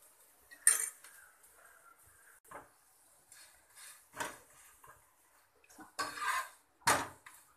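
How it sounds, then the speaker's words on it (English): Cooked masala akki rotis, rice flatbreads, moved onto a serving plate, a few scattered clinks and scrapes of utensil against dish amid quiet gaps, close and moderately soft. "Now I am transferring it to serving plate."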